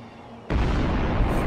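The animated Tallboy bomb hits with a sudden heavy blast that swells into a loud sustained rumbling roar.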